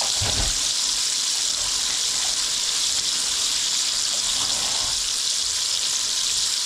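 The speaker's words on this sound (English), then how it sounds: "Wash my hands." Tap water runs steadily as batter-covered hands are washed under it while catfish is being coated and fried, a continuous hiss with no speech.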